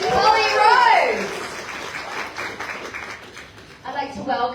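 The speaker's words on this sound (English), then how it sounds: "Let's give a big round of applause, Miss Polly Rose." Audience applause at a pinup pageant finalist sashing swells after a host's voice and continues as a brisk, moderately loud patter of clapping, with talk returning near the end.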